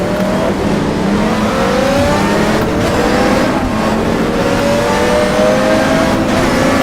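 A racing car in GTR Evolution revs hard through an H-pattern manual gearbox, its engine note rising and dropping between rev-matched shifts, loud and continuous throughout.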